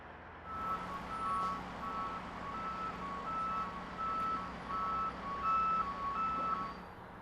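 A truck hauling a lowboy trailer loaded with concrete segments at a SkyTrain construction site moves steadily at a distance, its engine a low rumble under a regular series of reversing beeps.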